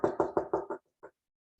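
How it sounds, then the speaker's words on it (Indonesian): Knocking on a door: five quick, evenly spaced knocks, then a pause and one final knock, close and clear in an otherwise quiet room. "oh, ada yang ketok pintu,"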